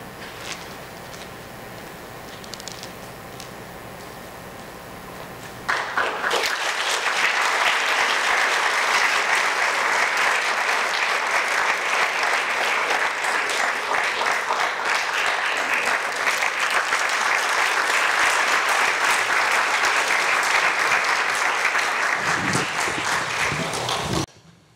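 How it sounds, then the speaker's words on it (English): An audience applauds after a spoken word poetry performance, a loud, steady wash of clapping that swells after a quieter start and runs for about twenty seconds before cutting off. "Let's get another round of applause for them."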